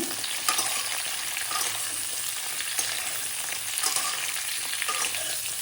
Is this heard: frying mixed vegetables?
yes